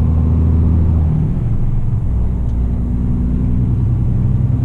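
A DAF XG+ truck at 40 tonnes, heard from inside the cab while driving at night, gives a steady, loud, low drone of engine and road noise that continues without a break and without speech.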